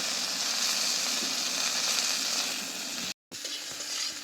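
Okra frying in oil for a sour prawn dish, a continuous close hiss and crackle of sizzling with a brief full cut-out near the end before it resumes.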